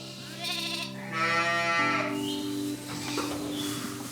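Sheep bleating close by on a farm, several drawn-out wavering calls following one another, loud and clear over a quiet outdoor background with no talk.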